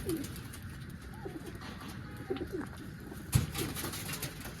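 Soft pigeon coos sound faintly inside a loft over a steady background hum, with a brief thump partway through; no voices.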